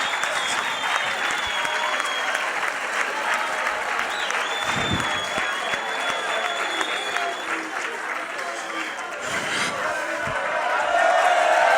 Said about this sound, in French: applaudissez s'il vous plaît très fort